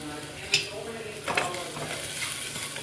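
Pancha phoron spices with turmeric and salt frying in ghee for masoor dal, a soft steady sizzle with a couple of sharp spoon scrapes against the pan.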